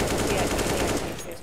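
Rapid automatic gunfire in Counter-Strike: Global Offensive, a fast rattling burst of closely spaced shots, loud and near, tapering off after about a second.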